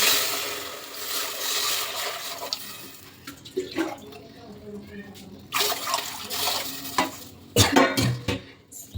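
Water pours and splashes steadily, then comes sizzling and clinking of a pan being stirred, with scrapes and knocks toward the end.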